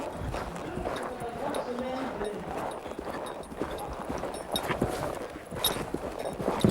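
Horse hooves clip-clop in a steady rhythm during a riding exam, fairly close, with a person speaking over the footfalls.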